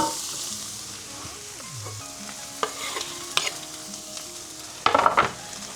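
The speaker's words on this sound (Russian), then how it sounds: "Сейчас немножко это все обжарим." Minced meat sizzles in a pan while a utensil scrapes and stirs it, with a few sharper clanks near the end.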